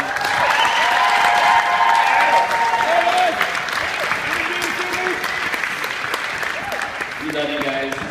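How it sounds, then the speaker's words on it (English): Wedding party guests applaud steadily and loudly throughout, a dense sustained clapping with a few voices and cheers mixed in. "huge round of applause to Mr."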